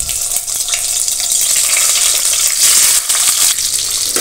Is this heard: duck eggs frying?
yes